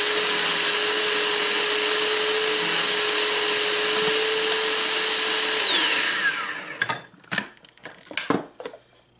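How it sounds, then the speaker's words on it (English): A vacuum sealer packing a bag of shredded zucchini runs as a loud steady electric hum for about six seconds, then winds down and stops, followed by a few soft clicks and rustles of handling. "we'll vacuum seal it."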